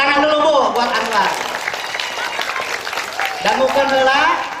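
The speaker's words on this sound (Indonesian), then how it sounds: "Tepuk tangan dulu Bu buat Anwar." An audience at a mawlid gathering for the Prophet Muhammad applauds steadily for a few seconds while a speaker talks over the clapping.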